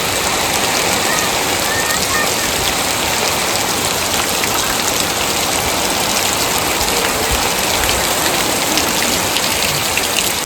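Heavy, steady downpour in a Botad village, a dense unbroken hiss of rain pounding surfaces that stays loud and close for the whole stretch, with no clear talk.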